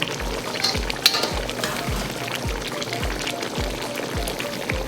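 Chicken onion karahi fries in a pan, a constant sizzling hiss with a regular series of low knocks as it is stirred, close and moderately loud, no talking.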